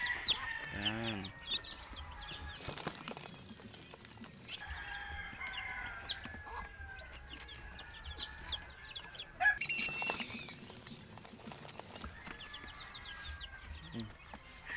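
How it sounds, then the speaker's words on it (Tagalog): Chicks and chickens clucking and peeping close by on a farm, with a rooster crowing, in scattered bursts over quiet background rustling and faint voices. "Cute-cute ng mga sisiyo."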